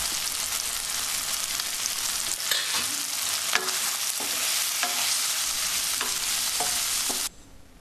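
Egg masala with coriander leaves and garam masala being stirred in a frying pan, a steady loud sizzle broken by repeated scraping strokes of the spoon, close up and without speech, ending abruptly.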